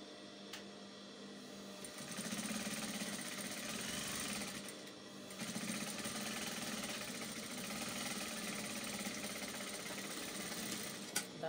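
A domestic sewing machine stitches a seam on a wide-leg jumpsuit, a quiet mechanical whir running in two bursts with a short pause between, no voices.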